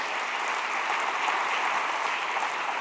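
A church congregation applauds during a sermon, steady, dense clapping from many hands that fills the room evenly from start to end, loud and without talk.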